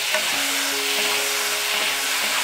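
Garlic sprouts tossed into a wok with salted broad beans give a loud, continuous sizzle that stays constant and close throughout, with no talking.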